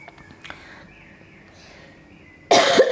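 After a near-quiet stretch with faint background sounds, a woman gives one loud, close, harsh cough at the very end.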